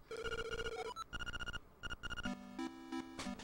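A telephone rings in the Game Boy Color game The Legend of Zelda: Link's Awakening DX, a chiptune ring repeating in quick pulsed bursts, followed by a lower, steady beeping tone, with no talk.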